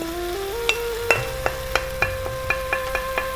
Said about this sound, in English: we're going to go stirring away here for about 4 or 5 minutes